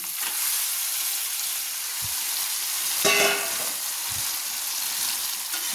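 Marinated chicken sizzles on spices in a hot pan for chicken kosha, a loud continuous frying hiss close up, broken by a few light knocks and a brief scrape of stirring.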